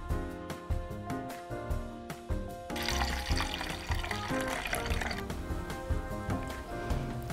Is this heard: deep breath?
no